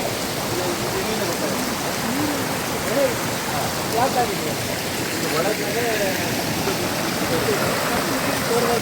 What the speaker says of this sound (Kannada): ಈ ಪ್ರಮಾಣದಲ್ಲಿ ನೀರು ಬರ್ತಾ ಇದೆ